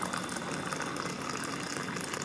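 A kitchen water tap dispensing hot water, a steady, fairly loud gushing pour that runs without pause throughout, with no talking.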